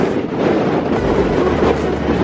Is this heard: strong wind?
yes